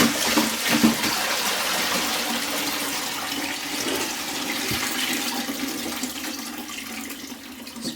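Water draining from apples, a steady close rush and trickle of water running out, continuous and moderately loud, no talking.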